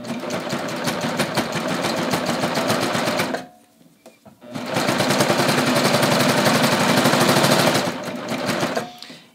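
A serger runs fast and loud with its knife trimming excess fabric along a garment neckline seam through the armhole intersection, stitching in two long bursts separated by a short pause.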